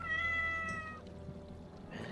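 A cat meows once, a clear tonal cry at close range that fades after about a second, followed by quiet room noise and a faint second sound near the end.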